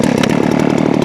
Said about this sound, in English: you got to take your time cutting it and let the saw eat